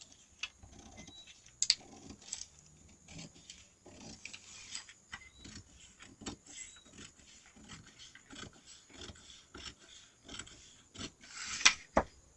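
Scissors snipping through a paper skirt pattern, a series of soft rasping cuts and light rustles at close range in a quiet room, with no talking.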